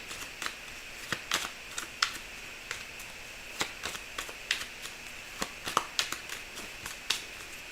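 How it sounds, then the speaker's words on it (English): Tarot cards are shuffled by hand nearby, producing a quiet run of crisp riffling snaps and taps at an uneven rhythm, with no talking over them. "I'm going to shuffle these cards."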